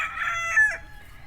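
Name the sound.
rooster crowing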